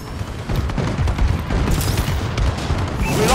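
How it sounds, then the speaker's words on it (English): Heavy rumbling explosions and booms from a bombing run in Call of Duty Advanced Warfare, Domination mode on the Solar map, rolling continuously and loudly with crackling gunfire mixed in. "Friendly bombing run incoming."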